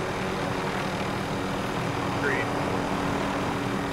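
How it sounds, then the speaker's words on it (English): A helicopter flies overhead in the Modern Warfare Warzone video game, its steady engine and rotor drone filling the background at moderate level with no clear change. "This helicopter's louder than the motherfucker."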